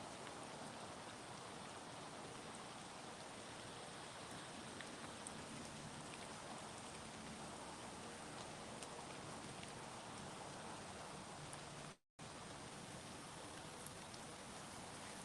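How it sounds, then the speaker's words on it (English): Steady outdoor rainfall at a resort, a dense, even patter of drops on surfaces that continues throughout, with one brief dropout near the end and no talking. "You can smell the rain."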